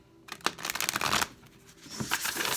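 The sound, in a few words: tarot cards being shuffled for a reading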